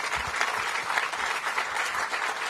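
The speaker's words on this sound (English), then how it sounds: "please give her a round of applause as well." Audience applause at an outdoor groundbreaking ceremony for recreational fields on the RFK Stadium campus, a steady, dense wash of clapping from a crowd that holds evenly for a couple of seconds.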